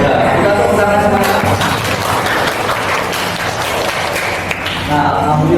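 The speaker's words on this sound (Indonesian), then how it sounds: "Kita tepuk tangan semuanya" Audience applause fills a classroom after exam results are announced at an Islamic studies teacher-training session, a steady dense clapping wash with voices talking over it throughout.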